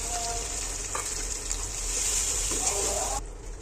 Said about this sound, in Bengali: এই পর্যায়ে আমরা সিক্রেট সসটা ঢেলে দিব।